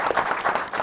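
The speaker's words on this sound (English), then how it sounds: "Can we please have a round of applause for them?" A quiz competition audience gives a short round of applause, quick scattered clapping at close range.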